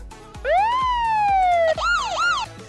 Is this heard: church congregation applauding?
no